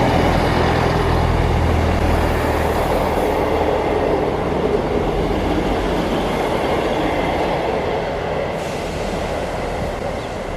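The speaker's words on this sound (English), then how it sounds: "Ah, the train going to Norwich." A train bound for Norwich passes through a station, a loud steady rumble and clatter of rail wagons rolling by close, continuing evenly throughout.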